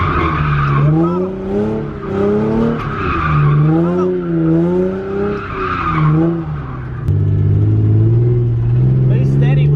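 Car drifting as a beginner learns, tires skidding and squealing in long wavering, sliding tones while the engine revs and pulls, loud and close, with a voice speaking over parts of it.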